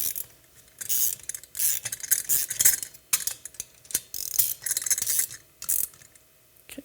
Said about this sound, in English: we'll go ahead and tighten this one down.